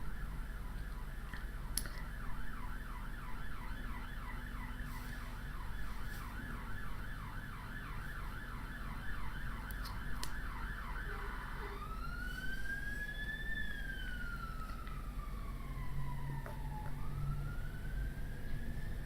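A distant ambulance siren wails in a rapid rising-and-falling yelp, then shifts into slower sweeping tones, heard faintly through the crowd noise and hubbub of a busy Comic Con London 2017 hall.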